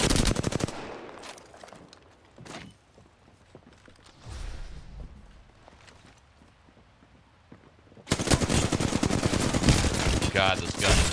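Bursts of rapid automatic gunfire in Apex Legends, one at the start and a loud sustained volley over the last few seconds, with quieter game sounds and footsteps between.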